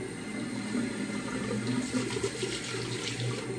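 Hot water runs steadily from a tap in a bathroom setting, a continuous hissing splash with no talk over it.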